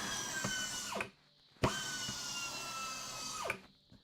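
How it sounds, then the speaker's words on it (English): An air drill powered by a compressor runs in two bursts in a workshop setting, a loud steady whine that cuts off abruptly, pauses in silence, then starts again and winds down, with no talking. "I'll slide it up the side there, and you can watch the drill come up."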